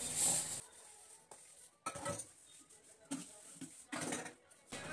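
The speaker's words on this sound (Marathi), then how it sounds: "चला तर भांडी घासून घेते" Dishes being scrubbed and rinsed by hand in a home kitchen, intermittent clinks, scrapes and running-water bursts at close range, with quiet background noise.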